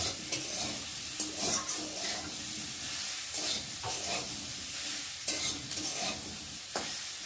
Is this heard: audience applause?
no